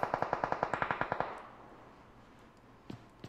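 Rapid automatic gunfire in the battle royale game PUBG during a training scrim, a quick burst of about fifteen sharp, evenly spaced shots, then a fading tail and a few scattered distant shots.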